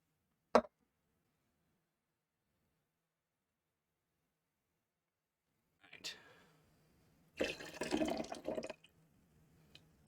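Tonic water is poured for a cocktail in a short liquid burst after a soft pop and a brief fizz, quiet and close, with silence between.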